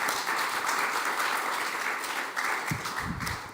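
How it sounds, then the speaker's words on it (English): An audience at a youth climate action event applauds, a dense sustained patter of many hands that stays loud throughout and tapers slightly at the end. "Please give applause."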